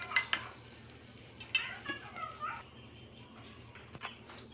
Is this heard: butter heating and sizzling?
yes